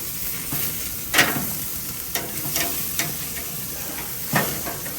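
Steak sears in a hot pan with fat rendering, a steady close sizzle broken by several sharp crackling bursts and spatters, heard alone without talk.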